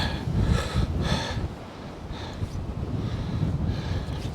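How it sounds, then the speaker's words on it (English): An easterly wind blows across the shore during a night bass-fishing session, buffeting the microphone in rough, uneven gusts with heavier surges near the start. "That easterly wind's kicked up."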